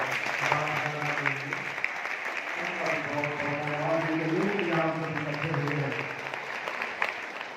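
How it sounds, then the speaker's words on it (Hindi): An audience at a Brahma Kumaris Trimurti Shiv Jayanti celebration in Meham gives sustained applause, a dense wash of clapping running throughout while a voice talks and music or chanting plays over it. "एक बार जोरदार तालियां बजाकर"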